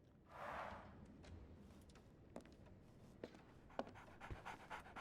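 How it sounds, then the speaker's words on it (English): A dog in the game Sherlock Holmes: The Awakened pants in a quick breathy burst, followed by soft scattered footsteps and clicks, fairly quiet. "So, Barnes has a dog now."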